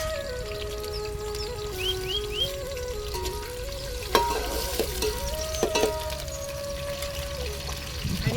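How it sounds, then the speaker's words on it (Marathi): Tomatoes go into browned onion and garam masala in a pan over a wood fire, bringing a continuous sizzle with stirring clinks and scrapes while a tonal drone and a few faint bird chirps sit in the background. "हा गरम मसाला कांदा चांगला लाल झालाय आता टमाटर टाकून घेऊया"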